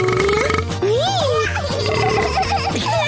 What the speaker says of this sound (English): it's not a competition to see who can burp the loudest